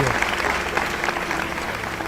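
A church congregation at an evening worship service gives a round of applause, a dense, continuous wash of clapping that fills the room, with voices mixed in underneath.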